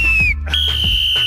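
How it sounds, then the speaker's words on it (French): A hiking emergency whistle on a Pyrenees mountain trail gives two loud, shrill blasts close to the microphone, a shorter one followed by a long sustained one. "C'est pas mal d'avoir un sifflet pour avertir en cas de problème"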